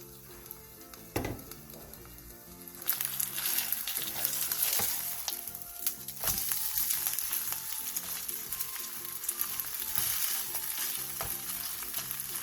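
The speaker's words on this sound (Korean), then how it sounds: "팬에 기름을 두른 뒤 반죽을 묻힌 배추를 올려 중약불에서 앞뒤로 노릇노릇하게" Batter-coated napa cabbage pan-frying in oil over medium-low heat, a continuous bright sizzle that swells after a few seconds and holds steady, with occasional clinks and stirring over a soft musical backing.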